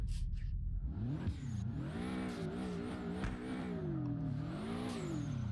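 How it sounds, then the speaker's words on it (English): A boxer engine in the video game Drift21 revs up and down in repeated rising and falling sweeps, loud and close, with no talking. "Just to hear the boxer sound and see how everything works."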